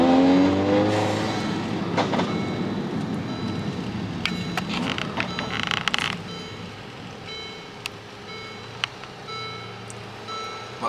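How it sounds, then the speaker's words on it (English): A Mercedes CLA45 AMG on BC BR coilovers drives over a bump: steady road and engine rumble heard from inside the cabin, with a cluster of knocks and rattles midway, then a quieter roll. "so we gonna go through over bump and see if we know"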